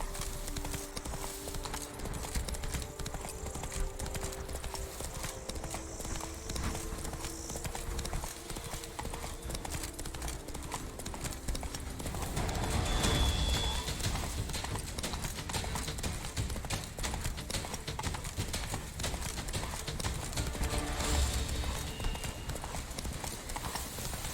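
Roach the horse trots in The Witcher 3, a steady, rapid clip-clop of hooves heard close throughout, with a brief swell of movement noise midway and no talk over it.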